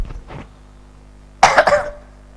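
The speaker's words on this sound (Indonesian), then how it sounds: "Batuknya." A person coughs loudly during a religious study gathering, a short harsh double burst following a quieter throat noise, with no talk over it.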